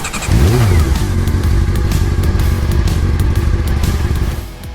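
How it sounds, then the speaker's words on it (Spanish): A KTM 890 Adventure R motorcycle engine roars loudly up close, revving up then holding a rough, throaty drone before easing off at the end. "cada historia comienza con el rugido de un motor"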